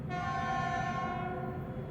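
A train horn sounds as a sustained, loud, steady blare, held without a break over a low rumbling rail background.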